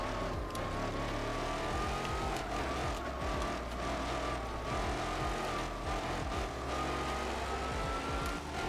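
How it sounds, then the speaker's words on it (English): A powerful Corvette engine in the video game Gran Turismo 4 roars and revs continuously, its pitch rising and falling with throttle bursts, loud and steady throughout. "Just hear that engine, man, when I give it gas."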